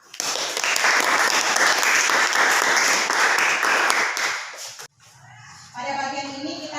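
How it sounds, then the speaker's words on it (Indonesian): A classroom of students applauds a student group with dense, lively clapping that lasts about five seconds and then stops abruptly, followed by quieter room noise. "Jadi berikan aplaus buat kelompok 3."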